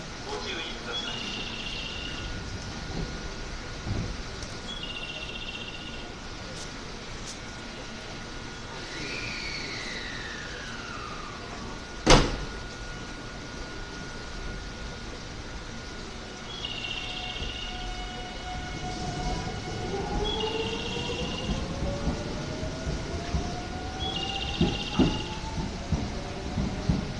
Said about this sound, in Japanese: 快速天王寺行き発車します。